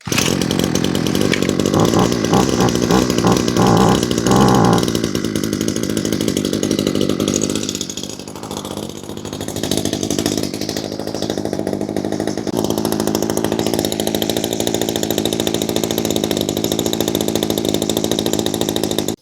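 A gas string trimmer engine running loud and close after a cold start, with rapid revving pulses early on, then a dip before settling into a steady, buzzing high-revving drone.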